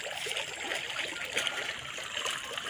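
A slow, steady trickle of water poured onto the centre of something at a village Mattu Pongal celebration, soft and continuous with faint gurgling.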